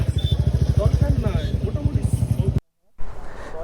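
A motorcycle engine putters with a rapid rhythmic beat up close on a hill road in North Bengal, a voice talking over it, then a brief cut before the engine resumes.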